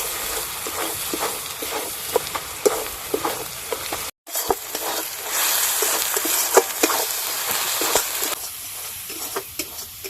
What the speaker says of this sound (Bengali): এবার সব কিছু মশলা খুব ভালো করে কষে নেব।